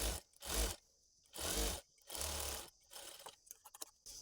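An electric sewing machine stitches a cloth border on a half-collar uniform dress, running in short close bursts separated by pauses, then a few quick clicking stitches at the end.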